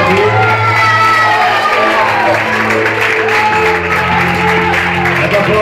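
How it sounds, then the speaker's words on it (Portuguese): Large crowd at a church youth congress cheering, whooping and applauding continuously, a loud sustained roar of clapping and shouts with music droning underneath and voices mixed in. "Pode aplaudir."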